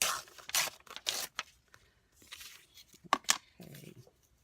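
Paper being cut down to size for a mixed-media background collage, with several short crisp tearing and snipping bursts spaced irregularly across a quiet room.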